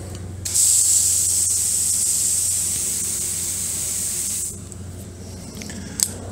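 A garden hose nozzle set to center spray blasts a loud, steady hiss of water for about four seconds before cutting off, leaving low background noise and a brief click near the end.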